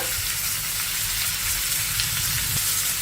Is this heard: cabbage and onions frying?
yes